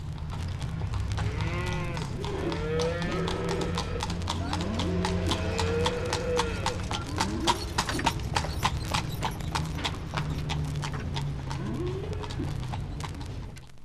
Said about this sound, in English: must utilize a horse and cart in order to get around to look at the material